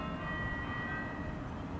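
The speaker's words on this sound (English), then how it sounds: "bells ringing in the background" Bells ring faintly in the distance near a garden by Iowa State University, thin sustained tones hanging over a quiet outdoor hush.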